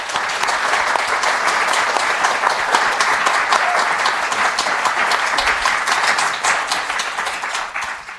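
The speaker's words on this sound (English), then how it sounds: "Jess deserves a round of applause for that" A round of applause from a podcast audience, dense even clapping that holds steady and fairly loud throughout before easing slightly at the end.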